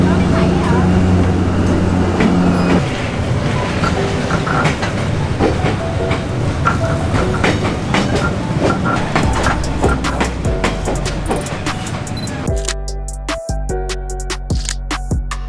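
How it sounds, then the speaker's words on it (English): A train rolls slowly through Hanoi Train Street in the rain, a steady loud rumble with clacking wheels and rattling cars close by, while people talk nearby. "Okay, the train's going through, but it is raining"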